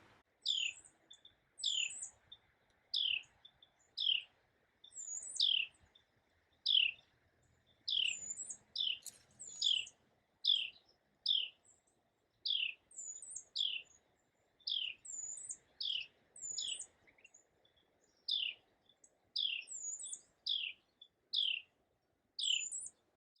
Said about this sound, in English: you hear that bird? That bird is yapping away.